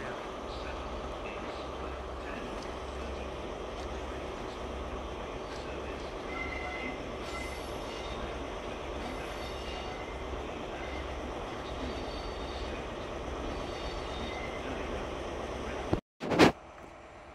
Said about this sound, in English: I wasn't expecting the train to leave